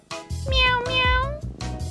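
Several cats meowing in a row, clear tonal meows close by, a few overlapping, with a brief pause before the last calls; a voice may be mixed in faintly.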